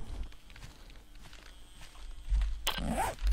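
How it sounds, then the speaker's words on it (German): Footsteps in the game 7 Days to Die, Alpha 12, shuffle and scrape at a moderate distance, growing heavier and louder toward the end. "Ich höre schon wieder Schritte."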